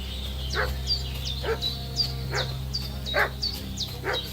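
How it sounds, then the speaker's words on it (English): A dog barks in a quick, steady series of sharp, fairly close yaps, roughly two per second, over a low background hum, with no voices. "What's that dog making such a fuss about?"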